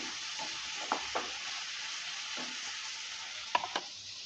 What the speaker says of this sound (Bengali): লবণ হলুদটা দেওয়ার পর ভালো করে আবারও নেড়ে ফেলে নিচ্ছি আলু আর কষটাকে একটু ভালো করে ভেজে নেবো লাল লাল করে